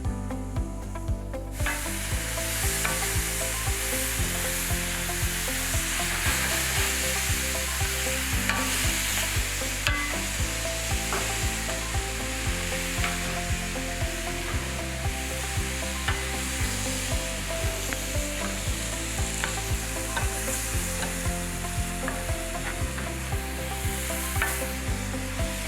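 Tomatoes, habanero, pimento peppers, thyme and chopped scallion sizzle steadily in a pan for Trinidad tomatoes and saltfish, with repeated stirring scrapes over a constant close fry, no voices throughout.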